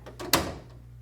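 A Snap-on toolbox drawer slides and knocks shut in a garage, a quick metallic rattle ending in one sharp clack, close and alone.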